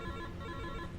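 A 1990s-era telephone rings continuously, its steady electronic tone filling the moment at a constant level with no one speaking over it.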